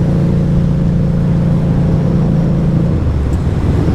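A car engine drones low and steady from close by, its pitch holding level and then dropping a little near the end as the car goes past.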